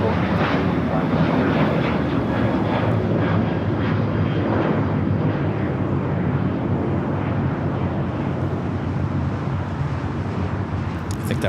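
A United Boeing 737-800 jet at Los Angeles airport roars loudly and steadily, its engine noise a broad continuous rumble and whine that holds at full strength throughout without a break.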